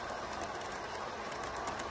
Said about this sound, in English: Oh, Henry, how exciting to see this train full of Canadian Tire trucks.